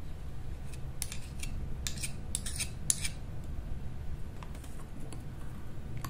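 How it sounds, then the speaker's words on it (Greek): A spoon stirs a yogurt face mask mixture in a small bowl, giving faint scattered clinks and scrapes over a steady low background hum. "Και πάλι ανακατεύω καλά για να ενωθούν όλα τα συστατικά πάρα πολύ καλά."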